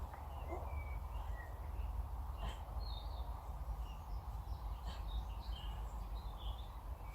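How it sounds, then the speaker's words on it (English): Birds sing in the quiet Cannock Chase woods, scattered short chirps and whistled phrases coming and going at a moderate distance over a soft, steady background hush. "All you can hear is the birds"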